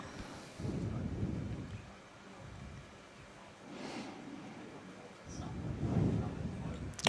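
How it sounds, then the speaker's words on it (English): Thunder rolls during an outdoor lawn bowls match in stormy weather, a faint low rumble that swells, fades and swells again over several seconds, with wind and soft background noise. "Oh, a bit of lightning out there."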